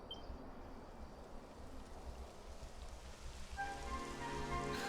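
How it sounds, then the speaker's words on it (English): Rain begins falling in the video game Dragon Quest XI S, a soft steady patter of drops on surfaces that swells slightly as a tonal musical layer enters near the end. "It would have to go and start raining, wouldn't it?"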